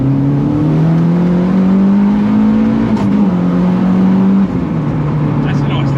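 A K24-engined turbo Ford Fiesta on track accelerates with a rising engine tone, then drops pitch sharply at a quick gear change and keeps pulling, heard from inside the car with occasional talk.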